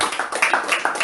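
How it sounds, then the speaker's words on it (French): A church congregation claps during worship, a dense broadband patter of many hands with a few sharper accents, steady and fairly close, with no talk over it. "Applaudissez encore pour le Seigneur"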